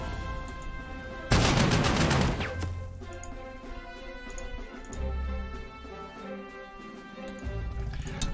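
Unit opening fire on an enemy in the wartime strategy game Panzer Corps 2, a sudden loud crashing shot with a roaring, decaying burst over steady background music.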